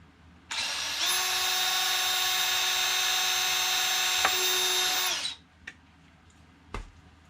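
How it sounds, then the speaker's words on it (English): A power drill whirs steadily at high speed for about five seconds, drilling a vent hole in an aircraft cowl, close and loud, then winds down, followed by a couple of brief clicks. "let's just go ahead and drill a hole for venting"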